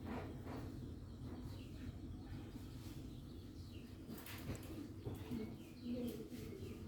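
Giribaj pigeons coo softly in a loft, low murmuring calls repeating against a steady background hum, fairly faint and close, with a few brief higher chirps.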